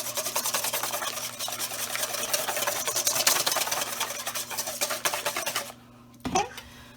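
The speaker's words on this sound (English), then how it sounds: "give this a good whisk to mix it together." Eggs and onion are whisked briskly in a bowl, a fast rhythmic scraping and clinking close by that stops abruptly near the end, followed by a brief knock.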